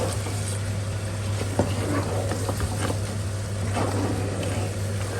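Beef trotters for paya fry in a pan over a high flame, giving a steady, even sizzle and bubbling with a low background hum and a few faint knocks, and no one speaking.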